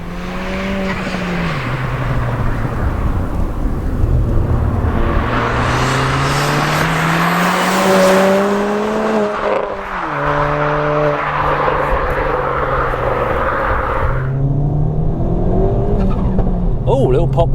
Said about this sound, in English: little pop there from the exhaust